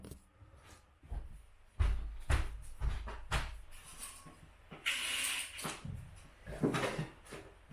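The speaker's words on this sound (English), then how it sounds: "Need to close my door." A door being closed indoors in a hot living room in Japan, heard as several close, dull knocks and thuds with rattling, followed by a brief scraping, sliding sound.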